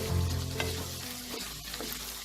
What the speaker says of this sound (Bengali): দিয়ে এটাকে হাই ফ্লেমে কিছুক্ষণ নাড়াচাড়া করে নেব।